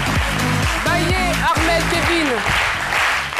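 Studio audience applauding the arrival of guest Baye Armel Kevin on a French-language midday TV show, a steady wash of clapping beneath a host's continuous voice.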